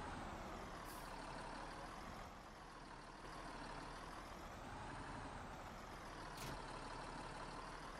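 A tractor's engine in Farming Simulator 19, a newly rented machine working a field at nightfall, drones steadily and fairly loud for the whole stretch, with no voices.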